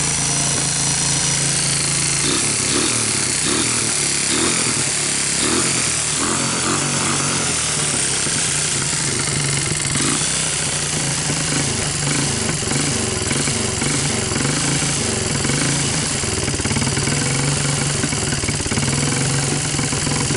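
A Honda TRX200SX ATV engine idles steadily and loudly up close, a continuous mechanical chug with a rough rattling edge that never lets up, with no talking over it.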